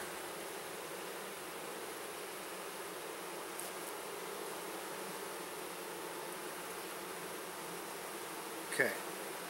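Honey bees swarm around a hive frame during hands-on beekeeping without gloves, a steady close buzzing drone that holds evenly throughout, with one brief louder pass near the end and no talk.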